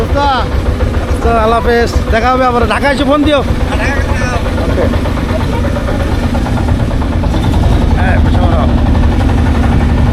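A steady, droning boat engine rumble runs throughout as the boat departs Chilmari river port, with people talking loudly over it in the first few seconds and quieter voices later.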